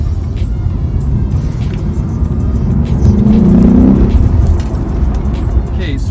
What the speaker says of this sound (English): Okay, now I'm the thief. I'm taking the vehicle now.